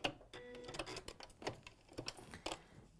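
A sewing machine stitches in quick uneven bursts, its needle ticking and clattering close by at low volume with short pauses between runs.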